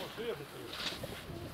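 Pigeons at a snowy outdoor feeder give soft cooing calls, with a brief fluttering burst in the middle, close by and moderately loud over steady outdoor background noise.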